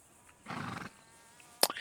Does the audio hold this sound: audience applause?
no